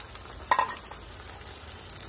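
Chicken mince dropped into a hot pan for a chicken khasta kachori filling, starting with a sharp splash then steady crackling sizzle, close and without talk.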